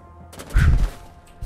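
A single sharp gunshot in the video game Rainbow Six Siege cracks out, loud and punchy, followed by a brief decaying tail against a quiet background.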